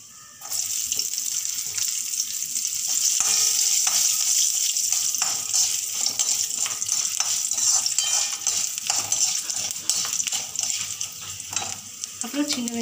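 Garlic and dried red chillies frying in a pan, a dense, steady hiss and crackle with frequent stirring clatter, close and loud throughout.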